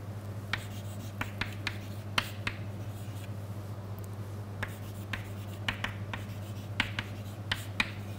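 Chalk or pen writing during a physics lecture on spin relaxation, heard as a run of short, sharp scratches and taps at an irregular rhythm over a steady low room hum, with no voices.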